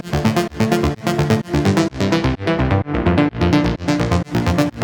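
A house arp layer built from a Splice sample, cut shorter and given a filter cutoff tweak, chops out in short bouncy bursts. The bursts repeat in a regular rhythm with no talking.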